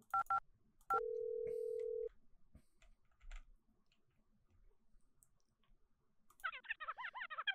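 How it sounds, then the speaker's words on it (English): Telephone keypad tones in a video game: two short dialing beeps, then a steady held tone of about a second, with faint clicks afterward and a warbling electronic sound rising near the end. "Use the mouse to press the phone buttons."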